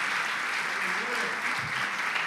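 A church congregation applauds during a celebration service: steady, moderately loud clapping throughout, with a voice speaking faintly underneath.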